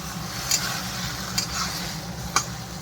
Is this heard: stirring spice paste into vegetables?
yes